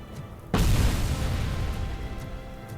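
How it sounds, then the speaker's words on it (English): A grenade goes off in the shooter game Robocop Rogue City: one sudden loud boom followed by a long rumbling roar that slowly tapers, heard alone. "Oh, another grenade."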